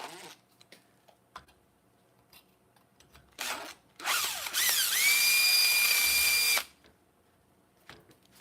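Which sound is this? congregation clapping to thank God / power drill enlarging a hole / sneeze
power drill enlarging a hole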